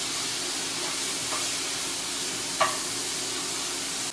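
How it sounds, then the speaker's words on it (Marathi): Half a kilo of okra (bhindi) frying in a little oil in a pan, a steady close sizzle with faint spatters and a soft clink of a utensil. "हे बी मातशे तेलान बी बरे तळसून घेता."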